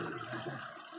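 Water rushes steadily while being flushed through a Yamaha outboard motor with a sump pump, a continuous hissing and gurgling wash, fairly quiet and with no voices.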